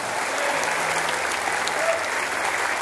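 Concert audience applauding the backing singers, a steady dense wash of clapping that holds for the whole stretch without any talk over it.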